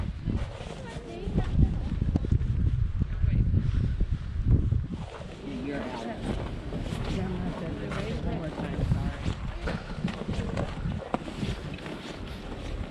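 Snowmobile ride through Yellowstone Park in winter, its engine giving a steady, loud low rumble mixed with heavy wind buffeting against the microphone throughout.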